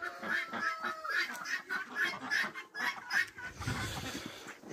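Ducks quack repeatedly in a lively, chattering group in snow, mixed with some clucking fowl, moderately close with no talking.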